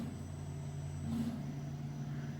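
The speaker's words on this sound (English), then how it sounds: "if you want to jog to the corner to get ready to cut something in that, you can just jog until you're there" A CNC cutting machine jogs toward the corner of its table, giving a steady low motor hum and rumble with a slight rise partway through, close and continuous with no talk.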